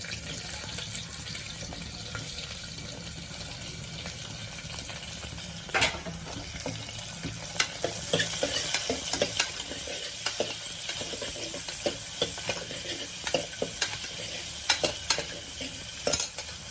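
Onions frying in a pan for vegetable kurma crackle and sizzle steadily, with frequent sharp stirring clicks and scrapes growing busier toward the end.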